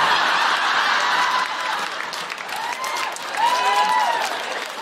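A live studio audience at a comedy podcast recording claps and laughs, a sustained wash of applause with scattered chuckles and a few whoops.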